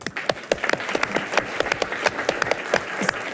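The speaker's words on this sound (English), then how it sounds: "Let's give everyone a round of applause." Applause at a city council meeting, a modest group clapping with distinct individual claps audible, fairly close and steady throughout.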